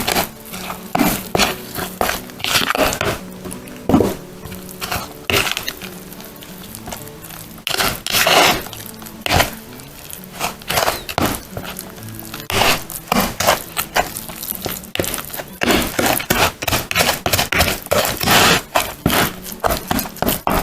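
A mixture of Polish powdered food and water is stirred in a container, giving a long run of close scraping, crackling and clinking strokes in an irregular rhythm, with no talk.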